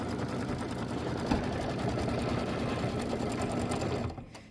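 An embroidery sewing machine runs a placement stitch for a mini quilt, a steady rapid mechanical whir with fast needle rhythm that continues evenly before cutting off near the end.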